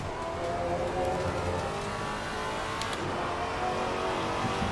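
A Maserati GT4 race car racing at Donington in Assetto Corsa Competizione, its engine droning loud and continuous with a steady high-revving roar throughout and no break.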